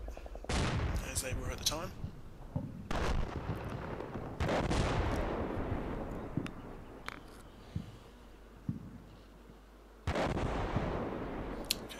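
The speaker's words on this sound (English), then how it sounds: "They're just doing what looks like to be a barrage on the exit" Artillery barrage from the Combat Mission: Battle for Normandy game, with heavy booming blasts and crackling gunfire bursts spread across the clip, interrupted by a quieter stretch, while someone talks over it.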